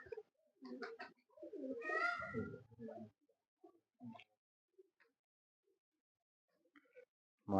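Pigeons at a champion pigeon breeder's loft give a short cooing burst near the middle, alongside scattered soft bird calls and rustling, with a voice speaking briefly in the background.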